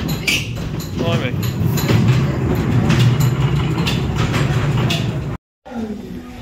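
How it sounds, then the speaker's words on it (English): A worn-out ghost train ride at a Hastings seafront funfair rattles and rumbles loudly and continuously along its track, briefly cutting out before resuming, with a person talking over the noise. "I think this ghost train might have seen better days."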